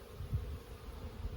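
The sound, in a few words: honeybees buzzing in an urban hive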